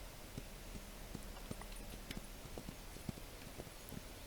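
Horse hooves walking at a steady clip-clop in the ranch video game The Ranch of Rivershine, regular soft thuds over a constant low ambient bed, fairly quiet and with no talk.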